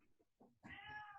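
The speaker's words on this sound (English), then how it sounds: "You get to hear my cat." A pet cat lets out a couple of soft chirps, then one long, drawn-out meow close by, in a quiet room during a home yoga session.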